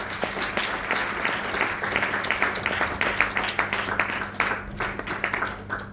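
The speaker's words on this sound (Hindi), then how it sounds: "एक बार जोरदार ताली उनके लिए" An audience at a DXN marketing event in India applauds: steady, dense clapping from many hands, moderately close and continuous throughout, with a constant low hum in the hall.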